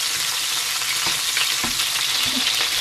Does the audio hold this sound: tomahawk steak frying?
yes